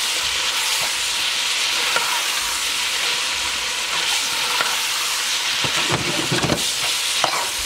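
Food for a shepherd's pie simmers and sizzles in a pot over heat, a continuous bubbling hiss with occasional soft stirring knocks and taps close by.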